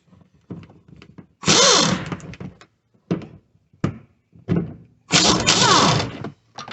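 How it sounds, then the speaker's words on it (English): Impact wrench with a 14 mm socket on a 2002–2007 Toyota Highlander strut, two loud rattling bursts of about a second each, with lighter knocks and clanks of tool handling in between. "we should be able to get everything done with 14 millimeter impact here"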